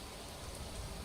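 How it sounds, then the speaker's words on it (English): Rain falls in a steady, diffuse hiss, faint and uniform, with no voices over it. "Oh, and now it's raining."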